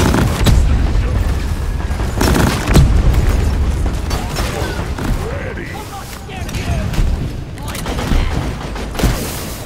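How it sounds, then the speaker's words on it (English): A sticky grenade goes off in the Deep Rock Galactic video game, set in Fungus Bogs: loud booms and crackling blasts repeat amid gunfire-like bursts, with a voice talking over the action. "Sticky, ticky grenade noise!"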